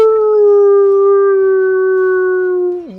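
A single long, loud howl holds a steady pitch for nearly three seconds before dropping away at the end, sounding like a wolf or dog.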